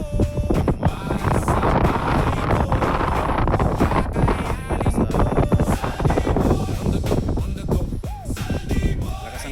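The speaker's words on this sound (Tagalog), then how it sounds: "Lakas ang hangin." Strong wind buffets the microphone outdoors at a hillside village viewpoint, with loud, gusty roaring and rumbling throughout.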